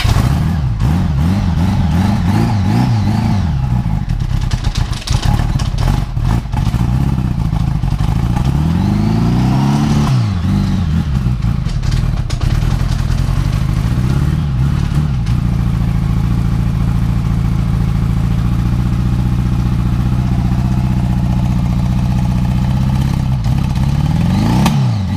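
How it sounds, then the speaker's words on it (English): A Honda Goldwing motorcycle engine runs at a raised idle and struggles without choke. The loud, steady, close drone rises and falls in pitch with a few revs, with no talking. "I'm gonna juice up the idle a little bit here."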